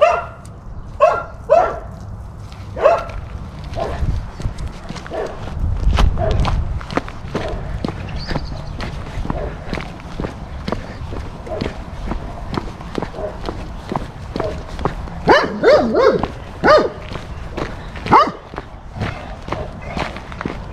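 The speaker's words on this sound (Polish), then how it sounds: "Po szczekaniach psów poznacie, gdzie znajduje się Major albo jakiś inny pies" Dogs barking around a village street, sharp repeated barks near and far scattered among footsteps and rustling movement, with occasional faint voices.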